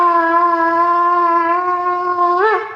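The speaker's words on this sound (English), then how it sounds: "The first one is called the tekiah." A single long tekiah blast on a shofar, a steady, bright, horn-like tone held for nearly three seconds with a brief upward wobble near the end, loud and alone.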